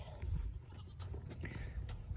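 Nigerian Dwarf goats on a family ranch bleat faintly and briefly, partly buried under steady outdoor rumble and wind noise.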